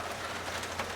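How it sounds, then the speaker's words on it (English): Steady rain falls outside a shop where an '82 K30 truck is being worked on, a continuous, dense hiss with no pauses and no voices. "It's pouring rain."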